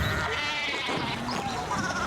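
Sheep bleating in the medieval narrative video game Pentiment, a few wavering bleats over a dense, continuous ambient game soundscape, moderately loud with no speech.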